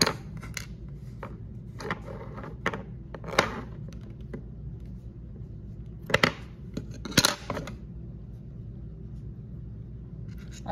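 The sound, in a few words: scissors cutting thread of a handmade rakhi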